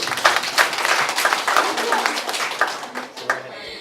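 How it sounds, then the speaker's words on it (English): An audience claps at a community declaration event in Khokana, Nepal, a busy burst of hand claps that thins out toward the end and drops off, with a few stray claps trailing. "who deserve a big round of applause for all of their hard work"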